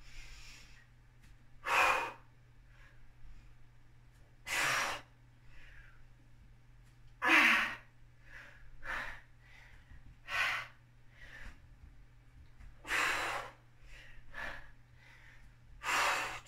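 Sharp, forceful exhaled breaths during a torso-twisting strength workout, about eight spaced bursts over a steady low hum, close and fairly loud, with no talking.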